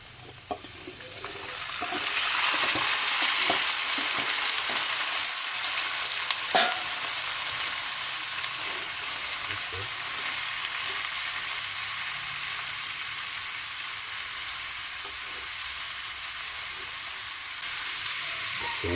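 Sliced onion and unripe papaya hit a hot pan and sizzle loudly, settling into a steady frying hiss with a few stirring clicks and clinks throughout.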